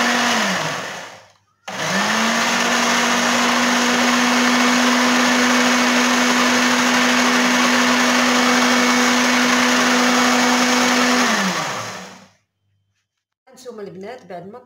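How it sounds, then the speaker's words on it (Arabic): A kitchen blender whirs loudly and steadily for about ten seconds, mixing oil, sugar and eggs for a lemon cake, after a brief start and pause. It then cuts off, and a voice speaks briefly at the end. "بعد ما طحن لينا الزيت والسنيده والبيض مزيان"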